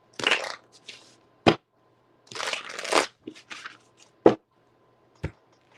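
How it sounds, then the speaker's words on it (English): A deck of tarot cards is shuffled by hand in close, crisp bursts of riffling and rustling, separated by sharp single snaps and taps, with quiet gaps between. "let me shuffle these again"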